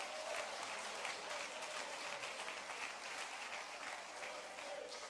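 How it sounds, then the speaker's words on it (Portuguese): Church congregation claps in sustained, even applause during worship, fairly faint and distant with a roomy wash of many hands and no clear voices. "Vamos lá, bata palmas e dê glória a Deus."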